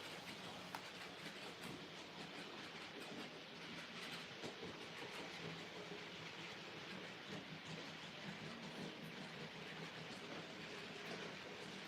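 Model railway trains running on a home layout, a steady close rumble with faint repetitive clicking of wheels over rail joints continuing throughout, slightly noisy as picked up by a phone microphone.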